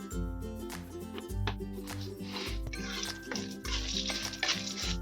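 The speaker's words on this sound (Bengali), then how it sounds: "ঘিটা গলে গেছে গরম হয়ে গেছে আমি এখানে তিন চামচ চিনি দেব তিন চামচ চিনি দিয়েছি চিনিটা গলে যাবে" Sugar melts in hot ghee in a pan, giving a soft, steady sizzle and frying crackle with faint stirring scrapes, quiet and close, and no talk over it.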